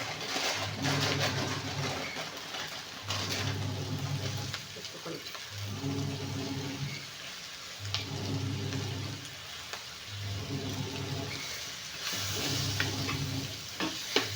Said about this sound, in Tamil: இது வந்து எண்ணெயிலே இந்த தேங்காயும் இந்த காய் சோயாவும் கொஞ்சம் எண்ணெயில் நல்லா போடலாம்.